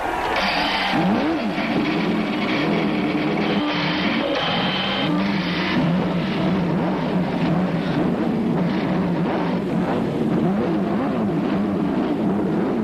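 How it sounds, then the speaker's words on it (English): Indy car engines fire up and roar together along the pit area before the 1991 Michigan 500, a dense, loud, continuous mechanical drone with rising and falling revs, no voices. "Up and down the pit area, engines roar into life"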